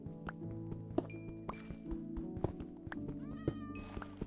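Cats meow repeatedly in Minecraft Bedrock Edition, several short tonal mews spread across a few seconds over layered game sounds and occasional soft thunks.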